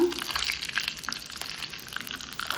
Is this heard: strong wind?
no